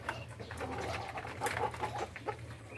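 A native chicken, crossbred with Rhode Island, clucks and coos softly on a backyard farm, a few short irregular calls over a low steady background hum.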